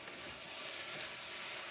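Rice and vegetables with oregano boiling in a pot on the stove, giving a steady, continuous sizzle and bubbling hiss close by, with no talking.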